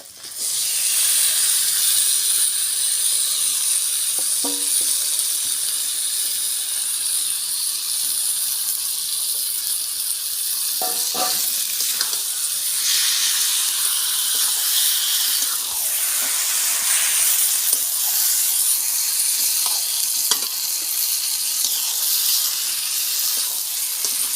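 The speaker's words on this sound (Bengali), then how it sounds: "মশলাটা আমার কষানো হয়ে গেছে, এবার আমি এই মাখানো চিকেনটা" Marinated chicken dropped into cooked spice masala for methi chicken: a loud, steady, close hiss of sizzling that runs almost unbroken, with faint scrapes and clinks from stirring now and then.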